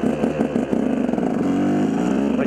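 A KTM 200 EXC two-stroke dirt bike engine revs and surges as the rider lifts the front wheel in a small wheelie, close and loud, rising then holding a buzzing pitch.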